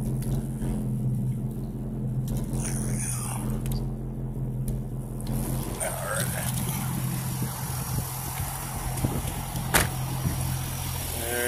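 A 2007 Chevrolet Corvette with a 400 LS2 engine idles with a low, steady rumble, first with higher whining tones above it, then with rougher broadband noise and occasional clicks.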